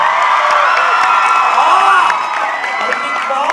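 A live theatre audience cheers, whoops and shouts loudly at a comedy show, a dense sustained roar of voices with some clapping mixed in, close and continuous throughout.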